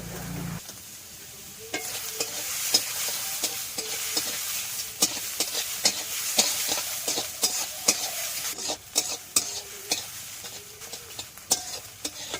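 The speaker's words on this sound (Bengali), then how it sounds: "ভালোভাবে ভেজে নিচ্ছি, দেখুন আর একটু ভাজবো।" Oysters with salt and turmeric fry in oil in a karai, giving a steady sizzle broken by frequent sharp scraping taps of a spatula as they are stirred.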